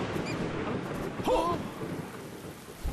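Steady rain hisses throughout while a low rumble of thunder rolls in the distance, with a brief sharper crackle in the middle.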